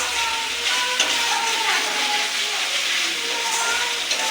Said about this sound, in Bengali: তেল ছাড়তে শুরু করেছে মশলার থেকে